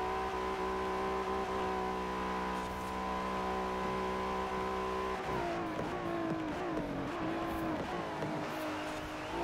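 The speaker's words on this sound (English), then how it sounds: "it's so annoying hitting that rev limiter" A Ferrari engine in the racing game Forza Horizon 4 holds at its rev limiter, a steady high buzzing drone that later wavers and bounces as revs shift, loud and continuous with no speech.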